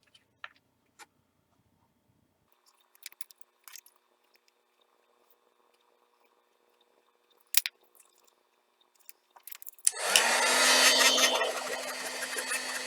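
A heat dryer switches on near the end and blows a steady, loud rushing whir over a watercolor-painted card, after scattered faint ticks and taps from handling the card.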